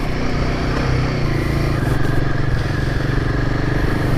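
A Royal Enfield Himalayan 450 motorcycle rides off-road on a dirt trail with its Showa suspension working, the engine droning continuously up close while gravel and debris clatter and scrape underneath.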